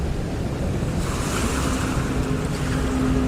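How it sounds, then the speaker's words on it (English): Ocean surf opening a music video, set in a desert scene: a steady, continuous wash of waves with a breezy, wind-like hiss, loud and unbroken for the whole stretch. "As soon as the MV begins, you hear the sound of the ocean"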